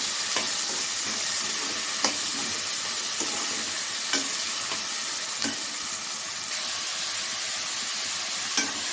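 Chopped spinach greens sizzle steadily in a hot pan for keerai rice while a spoon scrapes and stirs in regular soft knocks, close up with no talking.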